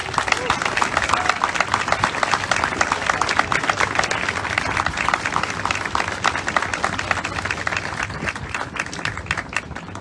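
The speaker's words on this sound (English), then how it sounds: "Please give all of these newly commissioned second lieutenants a round of applause." Audience applause at a university commissioning ceremony for new second lieutenants aboard the USS Midway in San Diego, a dense, steady round of clapping from a large crowd held at moderate distance for about ten seconds.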